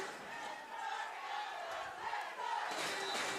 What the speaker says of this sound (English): the Panthers faithful here cheering on their back-to-back provincial champion U14 winning team